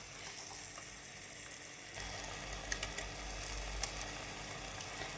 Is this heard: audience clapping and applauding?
no